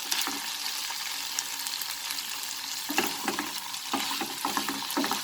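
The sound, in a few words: beetroot chicken cooking in a pan on medium flame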